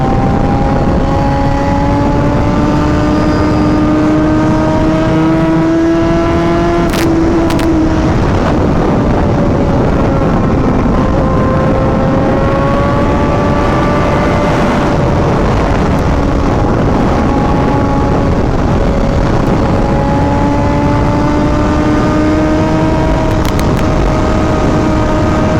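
A Honda Fireblade RRR SP motorcycle rides at speed with a loud, sustained engine drone whose pitch glides through gear changes, under heavy rushing wind noise.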